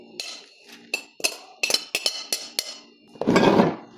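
Chopped onion, garlic and celery being mixed in a bowl for mashi, with a series of distinct clinks and knocks of a utensil against the dish and a brief louder scraping stir at the close.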